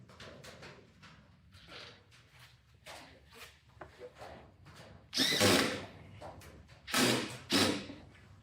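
A power drill drives screws into a holiday stocking-hanger project in short bursts: soft spins early, then two loud high-revving runs near the end, with brief pauses and a few quiet knocks between.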